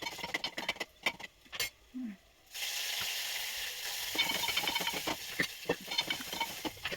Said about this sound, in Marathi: तर वरणाला आता मी फोडणी देते.